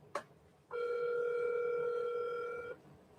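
A telephone call rings through toward voicemail: one long, steady electronic ring tone holds for about two seconds, clear and fairly loud, between short quiet gaps with no talking.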